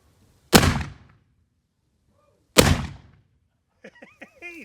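Brass blank cartridges topped with a floral foam plug are fired outdoors, two sharp loud reports a couple of seconds apart, each with a short decaying echo, followed by faint chirping.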